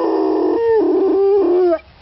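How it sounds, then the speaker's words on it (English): A dog howls or sings in a long, wavering, tonal wail that shifts pitch a few times, loud and close, then stops abruptly. "That's your singing doggy."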